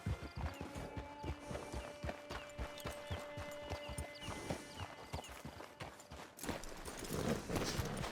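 Rhythmic clip-clop of horse hooves at a steady walking pace in the game Red Dead Online, close by, with faint ambient game sounds and a soft tonal hum.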